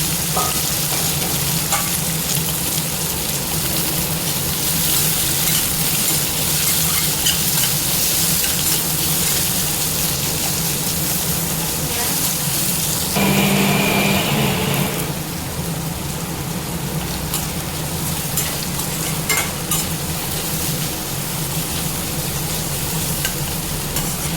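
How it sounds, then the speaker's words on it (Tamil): Onion, green chili, mustard seeds and chana dal temper in hot oil for ragi semiya, a loud, dense sizzle throughout with stirring scrapes and a brief tonal clatter midway; no voices. "வெங்காயம், பச்சை மிளகாய், கடுகு, கடலைப்பருப்பு போட்டு தாளிச்சிக்கலாம்"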